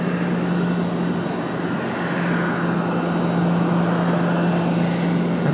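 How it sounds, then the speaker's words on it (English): American Airlines Boeing 737 MAX 8 jet arriving at Raleigh-Durham International Airport, a steady broadband engine roar with a sustained low hum, loud and continuous throughout. "A 1-year-old 737 MAX 8 for American Airlines."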